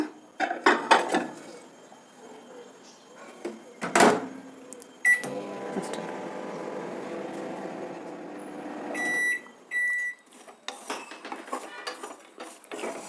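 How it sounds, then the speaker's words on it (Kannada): A home microwave oven set to run for thirty seconds: dishes and cutlery clatter, then a steady electric hum for a few seconds, then a few short beeps, followed by more clinking of dishes, all close with no talking. "ಮೂವತ್ತು ಸೆಕೆಂಡು ಇದನ್ನು ಆನ್ ಮಾಡಿದ್ರೆ ಸಾಕು ಓವನ್ನ"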